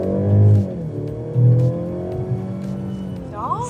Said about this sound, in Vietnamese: Và cái tiếng động cơ nó rất là đã nha.